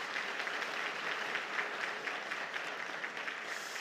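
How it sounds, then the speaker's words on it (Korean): Sustained, even applause from a church congregation welcoming a newly introduced minister during a Sunday afternoon service, steady dense clapping filling the whole stretch without a break. "인사할 때 큰 박수로 격려해 주십시오."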